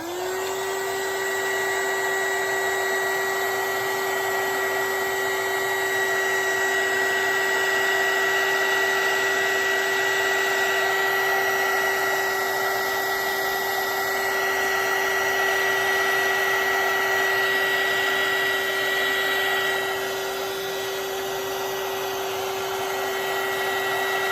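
A hair dryer blows continuously, drying ink on a messy art journal background. Its loud, steady whirring drone carries a constant whine, with slight shifts in tone as it moves, and no voices.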